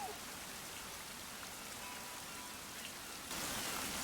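Steady rain falls in the video game Wild Hearts as a constant, hissing wash of drops on surfaces, moderately quiet and unbroken, swelling a little louder near the end with no voices.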